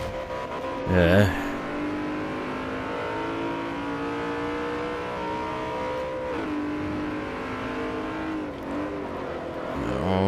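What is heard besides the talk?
racing cars, BMW M3 E92, in the video game Forza Motorsport 4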